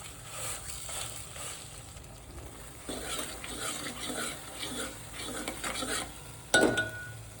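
A prepared masala paste with chili fries in oil in a pan, a moderate sizzle with stirring and scraping of a utensil against the pot, ending in a sharp metallic clink.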